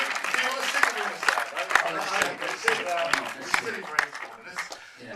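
An audience applauds after a verse performance at a Q&A, steady clapping under a voice talking over it, with sharp individual claps standing out close by.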